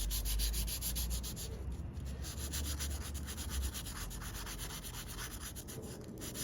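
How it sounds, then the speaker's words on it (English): Folded paper is rubbed steadily against a Native American ceremonial pipe, working into a crevice with a close, continuous, even scratchy hiss. "take a little piece of paper like this, fold it in half, and I just use it to get into this crevice here"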